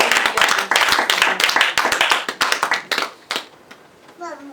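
A church congregation claps along rhythmically and loudly, a dense burst of hand claps that thins out and fades toward the end, with voices mixed in.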